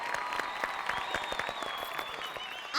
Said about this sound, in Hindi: अरे जरा जोरदार तालियां।